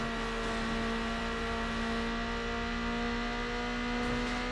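A Nissan 240SX in Need for Speed: Underground drones at steady high revs, a loud constant engine whine with layered harmonics that hold even throughout with no voices.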